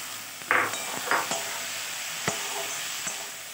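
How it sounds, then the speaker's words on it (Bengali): Chopped ridge gourd drops into a frying pan of sautéed garlic, tomato and ginger over medium heat, giving a few close stirring clatters and bursts over a steady sizzle, with no talk. "এবারে আমি দিয়ে দিচ্ছি কুচো করা ঝিঙেটা।"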